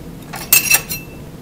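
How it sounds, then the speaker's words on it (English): A scoop clinks and scrapes inside a container of alginate impression powder, a few close bright metallic taps in quick succession, with no talk. "When we scoop the alginate,"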